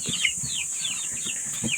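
Pet chickens weakened by intense heat give a few soft clucks and quiet fowl calls close by, along with small rustling and shuffling movements, over a steady high hiss of insects or background noise.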